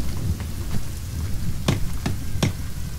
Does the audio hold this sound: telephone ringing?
no